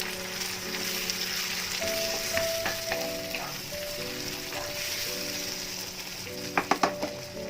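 Onions, ginger garlic paste and tomatoes fry in a pan for a mixed vegetable soya curry, a continuous close sizzle under a faint steady tone, with a few sharp stirring knocks near the end.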